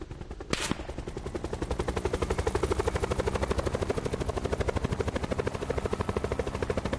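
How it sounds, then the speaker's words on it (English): Helicopter under fire in Call of Duty: Black Ops IV, with steady rapid rotor chopping and rattling machine-gun bursts running continuously after a brief sharp crack near the start. "But people are clearly shooting my helicopter."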